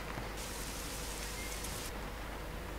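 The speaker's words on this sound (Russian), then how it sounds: "И какой замечательный дождик." Steady rain falls in the truck-driving game Euro Truck Simulator 2, a dense, even hiss of drops with no voices, holding constant at low level throughout.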